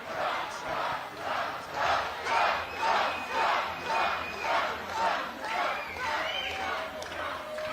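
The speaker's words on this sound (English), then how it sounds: "The crowd now chanting Trump." Rally crowd in Las Vegas chanting "Trump" in a steady two-beat rhythm, many voices swelling and falling in repeated loud waves, heard from within a large indoor crowd.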